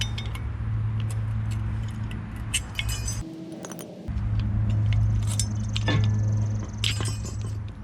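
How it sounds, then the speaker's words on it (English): A flathead screwdriver pries old brake pad bracket clips off the front brakes of a 2011-2020 Toyota Sienna. Sharp metallic clinks and jangling scrapes sound up close over a steady background hum, with a brief pause midway. "we're gonna take off the old ones with a flathead."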